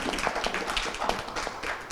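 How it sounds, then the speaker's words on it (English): Dense, steady applause from a panel audience after a talk on democracy and digital transformation in wartime, a close, continuous patter of many hands clapping. "A round of applause, please, for Tudor."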